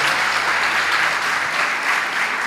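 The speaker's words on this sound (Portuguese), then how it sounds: "E dá uma salva de palmas para Jesus" Congregation clapping in a church service, dense loud applause filling the room steadily throughout, with no break.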